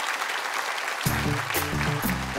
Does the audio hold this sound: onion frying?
no